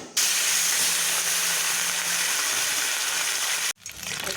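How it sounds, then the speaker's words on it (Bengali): Small mourola fish fry in hot oil, a loud continuous sizzling hiss close by that cuts off abruptly near the end before resuming more faintly. "এবার আমি মাছগুলা ভেজে নেব।"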